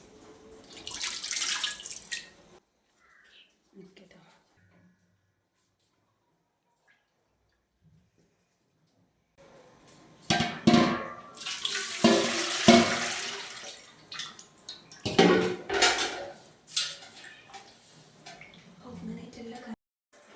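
Water splashes and pours inside a wet grinder drum being washed out after grinding idli and dosa batter, in loud bursts with a quiet pause between them and sloshing and dripping at close range.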